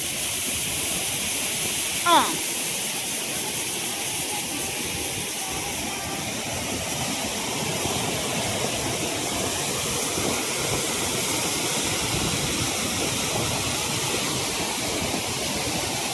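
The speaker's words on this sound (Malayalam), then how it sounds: "അപ്പൊ തൂവൽ വെള്ളച്ചാട്ടത്തിൽ വന്നിരിക്കുകയാണ്" Steady, loud broadband rush of the Thoovanam waterfall in Idukki, Kerala, filling the whole stretch without pause, with a brief sharp cry or whistle near the start.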